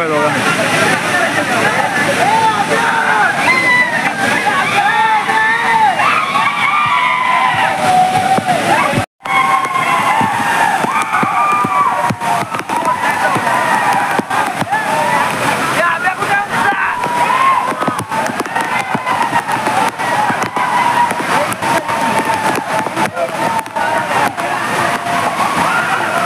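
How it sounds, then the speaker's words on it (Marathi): A small waterfall at Barki, Kolhapur, in heavy rain gives a constant broad rushing roar of falling water, with voices faintly mixed in and a momentary break in the sound. "हा असं बारकं बारकं धबधबा आहे बघा."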